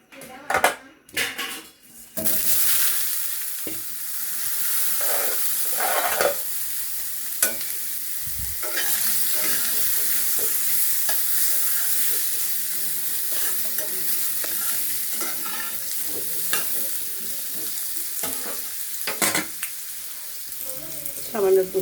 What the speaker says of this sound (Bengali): আলুগুলো আগে ভেজে নেব